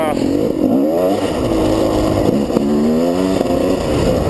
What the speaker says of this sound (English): my bike is a 2-stroke